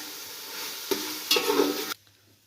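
Chicken pieces fry in a pot for matar pulao, a brief loud sizzling burst with stirring that swells midway and cuts off abruptly, leaving quiet.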